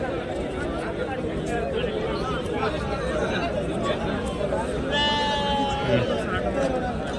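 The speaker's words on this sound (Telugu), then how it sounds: "దాడు ఉన్నదండి పెద్ద పొట్టేలు, బాగుండేది." Rams bleating at a busy sheep market in Nellore, one drawn-out bleat rising above steady crowd chatter and livestock noise throughout.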